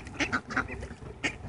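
Ducks being fed bread quack repeatedly at close range, a series of nasal calls in uneven bursts, several birds overlapping with no speech over them.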